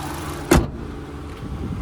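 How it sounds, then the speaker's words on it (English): A 2019 Kia Sportage S engine idles with a steady low hum, broken by one brief louder whoosh partway through, with no talking. "as we listen to it run, making sure there's no major knocks, rattles or squeals"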